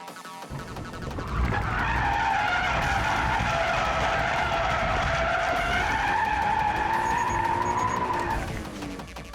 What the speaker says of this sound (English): releasing the clutch, and breaking traction to start the slide